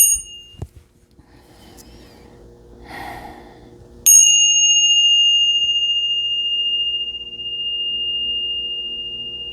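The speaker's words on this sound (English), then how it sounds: "Let's ring the bells." Small bells rung for a tarot reading: a brief faint chime early on, then a clear, loud bell strike that rings out and decays slowly across the rest of the clip, with no one talking.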